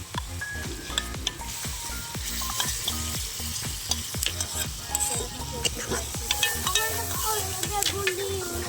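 Beaten yogurt sautéing in a hot pan for a Bengali doi begun dish, a loud continuous sizzle with frequent crackles and spatters as it is stirred, close up and without talk.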